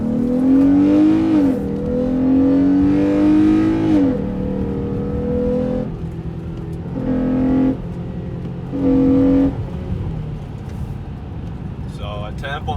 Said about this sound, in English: So I tap on the gas and it's just going. It just shoots RPMs